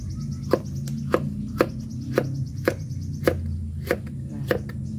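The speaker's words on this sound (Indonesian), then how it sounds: "mau aku iris-iris ya teman-teman, biar nanti lebih gampang pas kita masak" A knife slices through food on a cutting board in a steady series of about nine crisp, evenly spaced chops, close and clear, with faint bird chirps and a low background hum.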